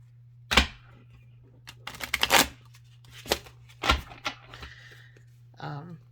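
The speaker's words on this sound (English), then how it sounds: "They are kind of hard to shuffle, but they are getting warmed up a bit." Oracle cards, stiff and hard to shuffle, are shuffled in bursts of crisp flicking and riffling, several separate rounds with pauses between, close up over a low steady hum.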